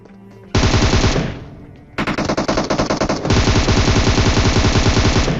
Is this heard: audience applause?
no